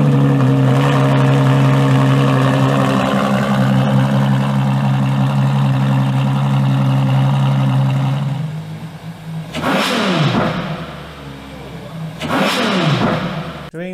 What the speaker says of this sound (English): when he starts up this LaFerrari, it sounds sick